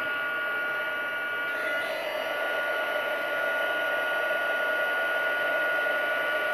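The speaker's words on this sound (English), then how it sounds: "now we're going to heat emboss" A heat gun used for heat embossing a stamped card blows with a steady, loud, continuous whine and airy rush throughout, with no talk.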